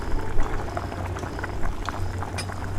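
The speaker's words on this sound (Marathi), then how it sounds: "भाजीला चांगली आता उकळी आलेली आहे" Hyderabadi chicken curry bubbling in a pot, a steady soft boiling burble with small pops throughout, close and fairly quiet.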